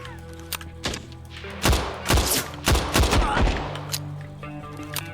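Gunshots in the first-person shooter Better Than Dead ring out in loud, close bursts, a few single shots early and then a tight cluster of heavy blasts with ringing tails in the middle, over a faint backdrop of game music.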